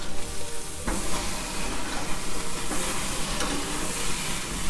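Burger patties and onions sizzle loudly and continuously on a grill, with a dense, even hiss and crackle and no voices.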